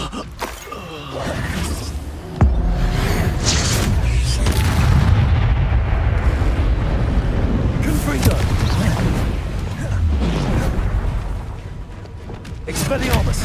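Repeated Expulso explosion spells in the Hogwarts Legacy video game, heard as loud, dense booming blasts over a continuous roar of battle, with a sharp crack near the start and a voice shouting over the din.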